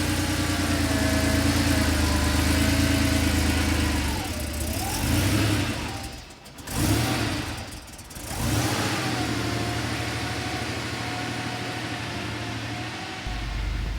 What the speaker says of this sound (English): So let's get in and drive these cars.